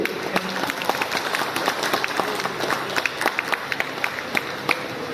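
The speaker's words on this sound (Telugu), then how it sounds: "ప్లీజ్ క్లాప్స్ ఉంటాయి." An audience in a function hall in Miryalaguda applauds at a heartfulness meditation event, a dense, steady patter of many hands clapping together with a faint murmur of voices underneath.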